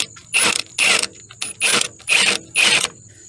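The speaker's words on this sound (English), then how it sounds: "Very slow, because I don't want to tighten it completely with the impact gun." An impact gun slowly snugs a motor mount bolt on a Toyota Camry, five short, loud rattling bursts in a steady rhythm with brief silent gaps, heard up close.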